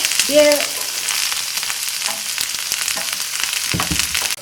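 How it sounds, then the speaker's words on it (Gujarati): Ginger paste with green chillies sautéing in oil in a pan for restaurant-style dry chilli paneer, a steady close sizzle with occasional spoon scrapes and a brief tonal squeak near the start. "આ બધાને આપણે સારી રીતે સાતળી લઈશું"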